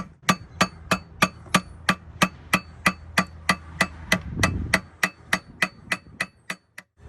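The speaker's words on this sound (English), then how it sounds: "you keep hammering away." Hammer strikes land on an outboard engine part during a rebuild, about twenty sharp metallic blows in a steady, evenly spaced rhythm, close and clear with a brief low rumble in the middle.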